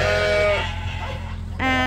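Sheep crowded into a farm barn chute bleat close by, two drawn-out wavering calls with a pause between them and steady low background noise underneath.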